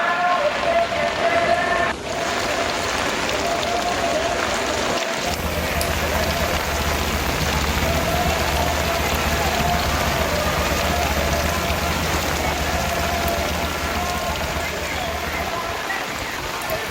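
Heavy rain pours steadily in Tirupati, a dense continuous hiss of drops on surfaces lasting throughout, with a low rumbling layer and faint background noise beneath.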